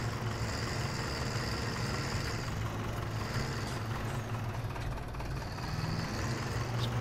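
A forestry tractor idles in Farming Simulator 17, a steady, loud low diesel rumble held close throughout, with a faint higher whine on top and no talking.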